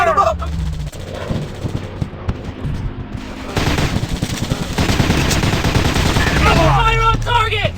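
Gunfire in the Commando Strike video game comes as loud rapid bursts and sustained automatic volleys that build toward the end, over dense game sound and shouted combat callouts.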